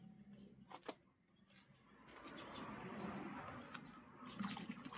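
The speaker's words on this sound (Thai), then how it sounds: "ก็จะเปิดน้ำใส่อย่างนี้ครับ" Tap water runs into a container of rice seeds being sorted with water, a soft rushing that swells steadily, while pigeons coo faintly in the background.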